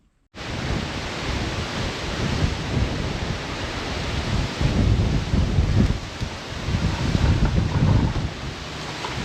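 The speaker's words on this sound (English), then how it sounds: "So as I'm trying to get my foot up, the bloody storm arrives." Heavy storm sweeping in over a countryside spot in Italy, a loud, steady roar of rain and wind with rolling rumbles, close and continuous from start to finish, with no voices.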